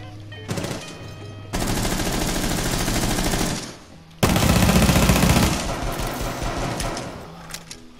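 Rapid automatic gunfire in Rainbow Six Siege, loud sustained bursts broken by a brief gap, then another long burst that trails into scattered shots.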